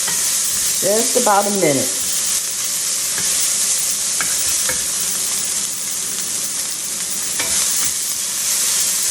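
Vegetables sauté in a hot skillet with a constant loud sizzle and occasional stirring scrapes heard up close, while a voice speaks briefly near the start.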